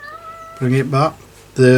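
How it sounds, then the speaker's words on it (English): A cat meows several times nearby, insistent and tonal, while a person speaks briefly in between. "that's my cat you can hear."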